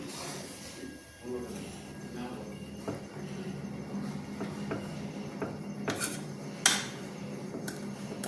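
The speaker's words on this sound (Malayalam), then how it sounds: "എനിക്ക് കുക്കർ അടയ്ക്കാൻ ഭയങ്കര പാടാണ് കണ്ടോ" A pressure cooker lid is being fitted and pressed shut, with scattered metallic clanks and clicks that grow sharper toward the end, while a voice talks softly nearby.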